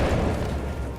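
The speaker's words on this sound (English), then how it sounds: "Say hello to my fucking grenade launcher" A grenade launcher fires in Syndicate with a heavy, rumbling boom that fills the whole moment, loud and sustained with no break.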